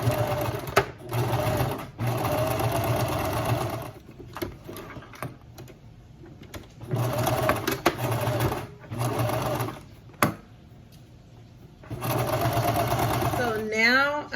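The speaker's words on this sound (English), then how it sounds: "So now I'm at the machine, and of course we're gonna sew along here on this part and on the lining." A sewing machine stitching a structured fabric mask and its lining runs in several bursts of rapid, close mechanical whirring, separated by pauses where a person talks.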